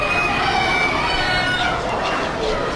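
Rooster crowing, played back as a recording inside Audacity, a loud continuous crow filling the whole stretch against a noisy, hissy background with no pause.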